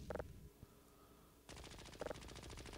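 Gunfire in the video game Half-Life: Blue Shift, with short rattling bursts of rapid shots, a brief pause, then a denser stretch of continuous firing and another burst, heard fairly distant and muffled.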